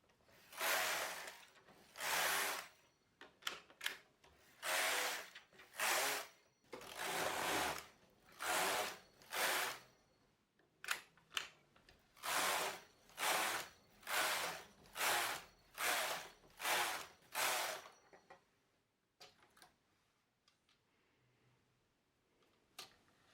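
A knitting machine carriage runs back and forth across the needle bed in a test after clearing a jam, giving a series of loud, evenly paced rasping sweeps that stop abruptly and leave faint rustling behind.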